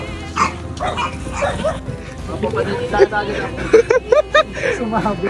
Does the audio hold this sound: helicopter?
no